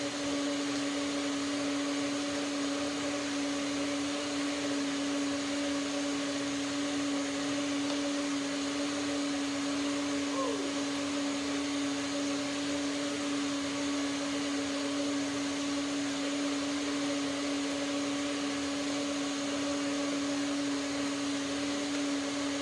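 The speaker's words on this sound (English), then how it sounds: "One more blender dance." A kitchen blender whirs continuously while blending a garlic sesame dressing, a steady, loud motor drone with a fixed hum that never lets up and no voices over it.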